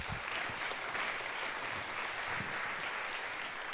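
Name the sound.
audience applause for a keynote speaker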